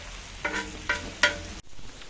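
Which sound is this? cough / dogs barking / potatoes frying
potatoes frying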